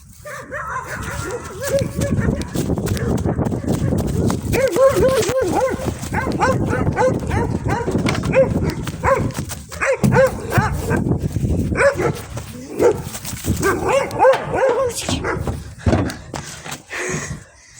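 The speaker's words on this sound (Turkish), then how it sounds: "Köpek var arkanda." A dog barks repeatedly in bursts, with yips and whimpers mixed in, fairly close, while people talk nearby.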